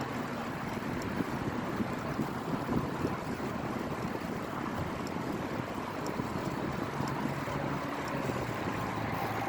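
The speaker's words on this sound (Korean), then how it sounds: "바람이 좀 불고 있어서 좋습니다." Wind rushes against the microphone while cycling along the Uicheon and Jungnangcheon stream paths, a steady, loud, unbroken roar of buffeting with no voices.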